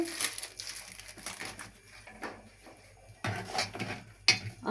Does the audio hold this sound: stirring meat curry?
yes